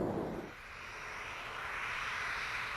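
A B-58 bomber nicknamed Little Joe flying low at about 500 feet on a mock bombing run: a steady, loud jet roar that holds at full strength throughout with no voices.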